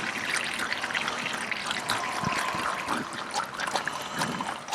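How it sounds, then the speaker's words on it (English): Motor oil drains from a 2014 Toyota Corolla S into a drain pan in a continuous close trickle and splatter. "And there we got oil into our pan. Let it flow, let it flow."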